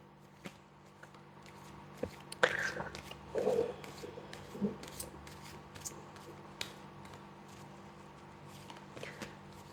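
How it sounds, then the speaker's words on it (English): Quiet crisp riffling and soft flicks of cards being shuffled close by, a few brief bursts against a low steady hum, no talking. "I just need to do a couple more shuffles here."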